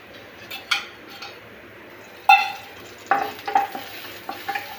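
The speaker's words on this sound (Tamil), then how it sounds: "பூண்டு கொஞ்சம் நேரம் வதங்கட்டுங்க." Garlic sautés in a pan for a potato fry, with a soft sizzle under several sharp metal clinks and scrapes of a spoon stirring against the pan.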